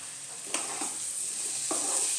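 Potato and raw jackfruit stir-fry with spices in a pan for a Bengali jackfruit and prawn curry, with a steady close sizzle and two sharp scraping strokes of a spatula.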